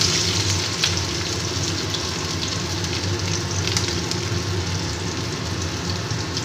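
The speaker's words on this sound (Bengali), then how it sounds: "কাঁচা লঙ্কা আর আদা কুচিটা একটু ভেজে নেব।" Chopped green chili and ginger fry in hot oil with a steady, dense sizzle that stays loud and even throughout, with no voices.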